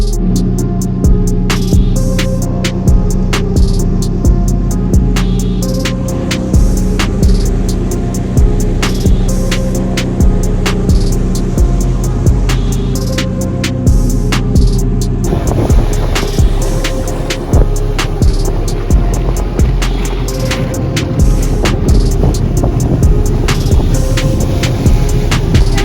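A Sea-Doo Spark 360 jet ski, fitted with sponsons, is ridden across the water, its engine holding a loud, steady droning whine with a slight shift in pitch partway through.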